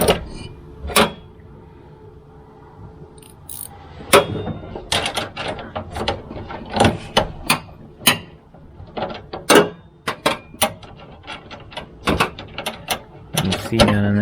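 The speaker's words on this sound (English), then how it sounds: "that's why you need the 10-inch ratchet" A 10-inch ratchet turns a tailgate bolt on a 2020 Toyota Tacoma during a PopLock tailgate install: close, sharp bursts of ratchet clicking in uneven runs, with short pauses and light handling noise between strokes.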